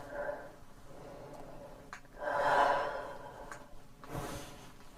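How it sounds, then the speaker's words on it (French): Slow breathing during a yoga posture: a long, soft inhale swelling and fading, then another quieter breath, faint and close in a calm room. "On inspire et on expire"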